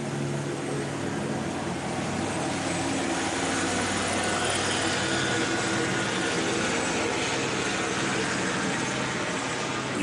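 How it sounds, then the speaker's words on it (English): Helicopter flying overhead in Los Angeles, a steady loud rotor and engine roar filling the whole stretch with constant broadband noise and no talking. "You know it wouldn't be LA without the helicopter."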